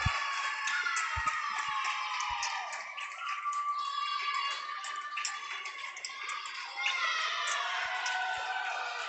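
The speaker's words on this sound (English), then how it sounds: "It's great to hear all the swimmers and crowd cheering for Halston" Crowd cheering and shouting at a swim meet rises and falls steadily for several seconds, a dense indoor wash of voices with a few sharp knocks and claps.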